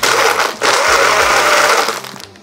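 An electric blender pulses and crushes ice for a cocktail, a loud close grinding roar that runs steadily for about two seconds, then winds down.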